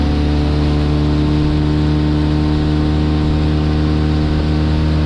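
A Mercury outboard motor pushing an Uralochka boat at mid revs drones steadily and loudly, a constant close engine hum with no talk.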